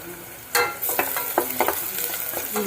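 Onion and chilli hit a hot pan for a village-style chicken curry, a sudden loud sizzle followed by a run of sharp spatula scrapes and clicks over steady frying, close up with no talk.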